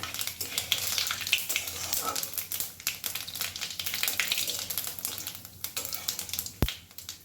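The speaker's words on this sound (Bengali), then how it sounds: "এবারে আমি তেলের মধ্যে দিয়ে দেব তেজপাতা আর শুকনো লঙ্কা আর দিচ্ছি হাফ চা চামচ পরিমাণ গোটা জিরে ফোড়নটা একটু ভালো করে নেড়ে নেব" Bay leaves, dried red chillies and whole cumin crackle and sizzle in hot oil for a vegetarian taro curry, a dense steady frying hiss with stirring, then one sharp metallic knock near the end.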